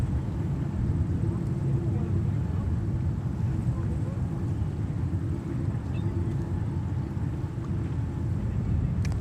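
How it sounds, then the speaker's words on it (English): A Kenya Airways Boeing 787-8 Dreamliner departing JFK Airport gives a constant, heavy low roar of jet engines, steady and loud throughout with wind rumble and no clear voices. "next departure we have Kenya Airways 787-8 Dreamliner"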